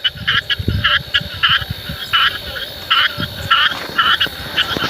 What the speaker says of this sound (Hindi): मेंढकों की आवाज़ आ रही